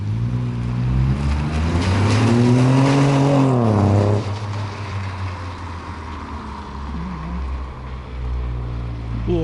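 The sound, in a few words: car speeding past on a snowy Moscow road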